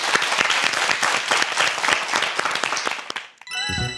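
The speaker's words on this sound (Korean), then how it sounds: "박수를 청해 보겠습니다" A studio audience on a Korean television quiz show bursts into steady, dense applause, the clapping loud and continuous before cutting off abruptly near the end.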